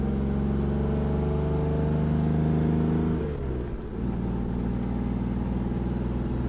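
A 1963 Jaguar E-Type inline-six engine pulls under acceleration, a smooth, loud drone with a rising tone that breaks off briefly for a gear change, then resumes at lower revs and settles into a steady hum.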